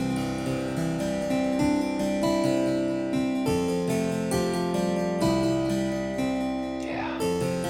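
A sampled 1767 German spinet from a Realsamples library for HALion, recorded in a hall, plays a continuous run of bright plucked notes with rich ringing overtones, sustained chords layering over each other, close and fairly loud with no talking.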